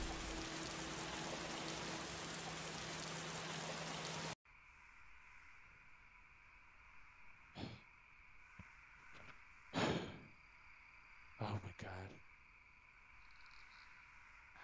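Steady hiss of rain falling in a Roblox roleplay game, loud and dense at first, then dropping to a quieter steady wash with a few brief louder bursts and short noises over it.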